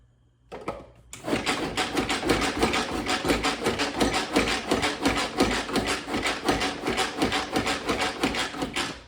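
Chili ingredients chopped in a Pampered Chef manual food processor, a fast steady run of sharp clacking strikes after a short pause, close and loud, with no talking.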